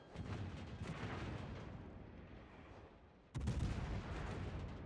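Naval gunfire in World of Warships: a continuous roar of distant artillery with layered booms, then a sudden louder salvo close by near the end.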